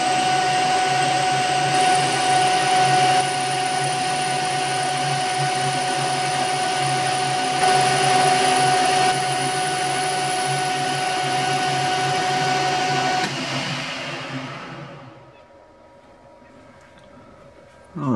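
A powered lathe turns a small steel crank pin, machining its head down to size for a slotter build. A steady, loud whine with a constant tonal hum runs for about thirteen seconds, then winds down and fades to quiet.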